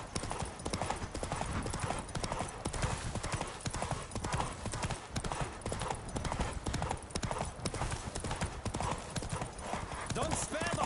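Rapid hoofbeats of a horse galloping flat out in a race in The Witcher 3, a continuous loud clip-clop rhythm close by, with voices calling out over it.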